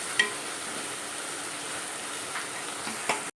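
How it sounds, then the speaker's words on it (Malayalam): Crushed onions and curry leaves sizzle softly and steadily in a pan for a tomato rasam, with faint stirring scrapes near the start and end and no talk. "ഈ ചതച്ച് വെച്ച ഉള്ളി ഇട്ട് കൊടുക്കാം. കറിവേപ്പിലയും കൂടെ അതിൻ്റെ കൂടെ ഇട്ട് കൊടുക്കാം. നമുക്കൊന്ന് ഇളക്കി കൊടുക്കാം."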